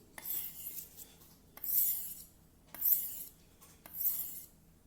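Knife being sharpened on a 1000-grit Japanese whetstone, four slow, even grinding strokes with a hissing rasp, each ending abruptly, close and quiet with pauses between.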